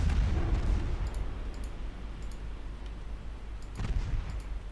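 Naval gunfire and shell hits in Ultimate Admiral Dreadnoughts, set in a 1964 Norwegian campaign with a German fleet: heavy booming impacts at the start and near the end over a steady low rumble, with faint ticking between.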